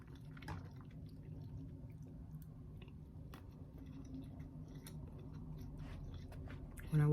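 Tacos being eaten close to the microphone, soft wet chewing and squishy bites in a steady, uneven rhythm, quiet and intimate, with a louder bump right at the end and no talk.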